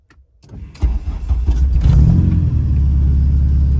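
A K-swapped car fires up from a push-start button: a short cranking burst, then the engine catches and settles into a loud, steady, deep idle rumble, with no talking.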